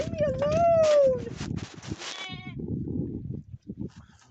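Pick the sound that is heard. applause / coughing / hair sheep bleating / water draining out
hair sheep bleating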